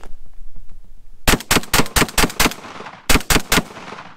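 Shotgun slugs fired at a car in a loud outdoor volley: six quick sharp blasts in a row, a short pause, then three more, each ringing off briefly.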